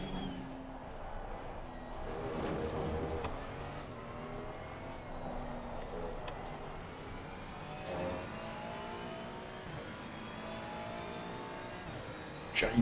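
Ferrari race car in Assetto Corsa Competizione at the Nürburgring, engine revving and shifting through gears with rising and falling pitch sweeps, steady and fairly faint, with talk over it.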